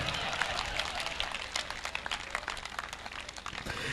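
Faint, continuous clapping from an audience at a Hindi poetry recital, a steady patter of many hands in a hall that sounds distant and thin.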